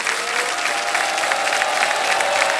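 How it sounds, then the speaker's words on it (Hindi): A studio audience on a TV quiz show bursts into loud, dense applause that carries on steadily throughout, with no talk over it. "तालियां बज जाए इनके लिए।"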